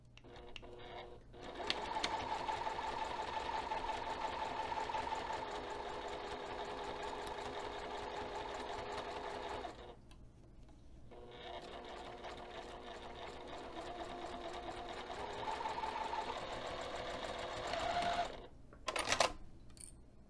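A sewing machine runs at a steady pace, stitching the sides and top of a fabric bag at 2.5 mm stitch length. The rhythmic whir stops once midway, then resumes, and ends with a few short clunks.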